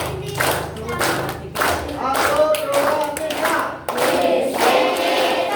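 Children clapping their hands in rhythm, loud repeated bursts of claps close by, with an adult counting aloud and talking between them.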